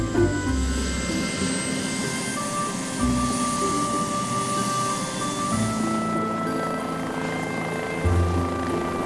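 A military helicopter drones in flight with a continuous engine roar and low thumps, loud and steady throughout, with no talking.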